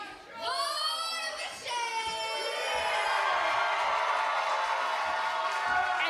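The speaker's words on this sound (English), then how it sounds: "you can hear the roar of applause for Perry Von Vicious and for Ryan Mooney" A wrestling arena crowd at an indoor pro wrestling event roars and cheers with sustained applause, loud and continuous, over harmonic whistles and voices at the start.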